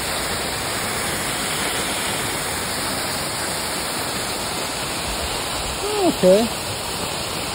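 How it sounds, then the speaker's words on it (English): A small waterfall on a hiking trail gives a steady, even rushing hiss throughout, with a brief voice breaking in near the end. "Oh, it's a little waterfall."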